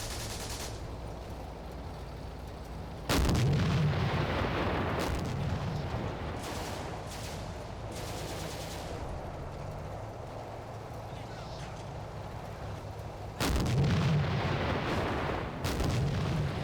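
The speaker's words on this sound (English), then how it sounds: "there's the artillery landing" Artillery shells land in the Combat Mission: Afrika Korps war game, two heavy booming impacts several seconds apart, each followed by a rumbling roll over a low battlefield ambience.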